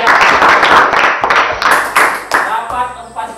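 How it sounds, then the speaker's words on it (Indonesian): A class of students applauding, bursts of close, loud clapping that rise and fade in waves, with voices talking over the end. "Oke, tepuk tangan dulu luar biasa."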